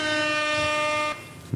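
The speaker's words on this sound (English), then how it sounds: "I hope you got to hear that air horn" A single loud, sustained blaring horn blast sounds for about a second, then cuts off abruptly, followed by a brief thump.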